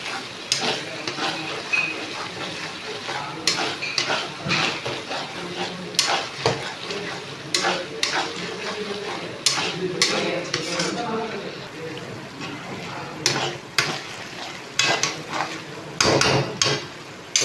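Spices with turmeric and chili powder are stirred in a pan, with repeated sharp clanks and scrapes of the utensil against the metal over a steady background sizzle. A voice speaks now and then among the stirring.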